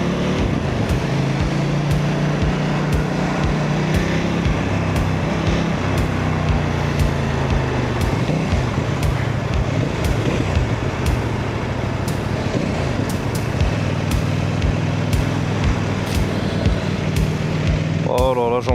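Saturday-night traffic fills a Paris street with a dense, continuous rumble of car and heavy engines, punctuated by sharp clicks and brief hisses. The sound is loud and close, with a voice speaking over it.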